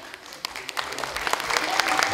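Audience at a regional youth forum applauds, scattered claps growing denser and louder over two seconds, with voices mixed in.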